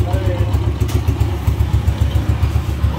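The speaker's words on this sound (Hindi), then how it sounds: "अभी इंजन की भी आवाज सुन रही है।" A Honda 125 motorcycle engine idles steadily close by at a repair shop, with a rapid even low throb and light mechanical clatter running throughout.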